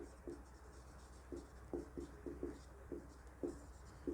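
A pen writing accounting journal entries on paper: soft, irregular scratches and taps, close and quiet, in short strokes spaced through a few seconds over faint background hum.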